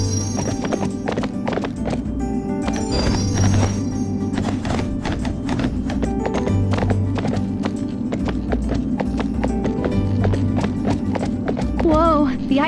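Galloping horse hooves in the Barbie Horse Adventures: Wild Horse Rescue PS2 game drum in a quick, steady clip-clop rhythm, joined by occasional whinnies, all over continuous game music.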